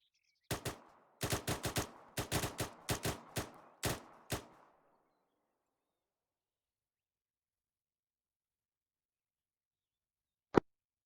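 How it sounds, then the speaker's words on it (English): Rifle shots on an outdoor shooting range, a rapid string of about ten sharp, loud cracks over four seconds, then silence with one faint distant shot near the end. "In the standing position, at a range of 50 meters, you will fire 5 rounds rapid."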